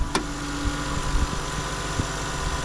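A stock 2JZ-GTE in a 1998 Toyota Aristo V300, a right-hand-drive JDM car, idles close by with a steady low hum and faint regular pulses and knocks.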